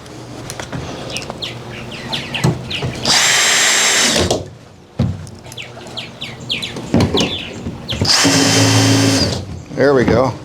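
Power drill driving screws into a plastic Suncast 170 gallon dock box, two loud sustained whirring bursts separated by clatter and handling noise, with a short third burst at the end.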